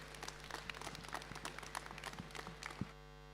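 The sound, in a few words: applause at alpaca show ring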